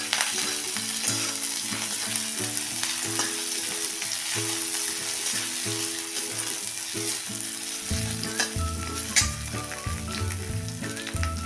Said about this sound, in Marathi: आता त्यात टाकूया हे अर्धा इंच किसलेलं आलं।